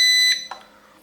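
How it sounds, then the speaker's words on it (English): Syma X100 mini drone controller gives a single long electronic beep, steady and fairly loud for about a third of a second, then cuts off into quiet room tone with a faint click. "I pressed that right stick, I pushed it in, and you get a long beep"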